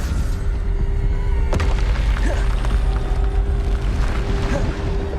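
Bombarda explosion spell cast in Hogwarts Legacy, a sharp booming blast near the start followed by rumbling debris and a steady low hum under busy combat effects.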